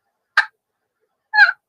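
Two short, raspy yelps of a turkey hen imitation are scratched out on an aluminum friction call, separated by about a second of silence, crisp and close.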